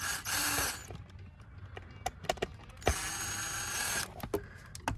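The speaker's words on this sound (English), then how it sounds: "Using an impact driver definitely works a little better" An impact driver drives a screw into the seat hinge trim of a Toyota Sequoia driver's seat in two loud, buzzing bursts, separated by small clicks and handling knocks.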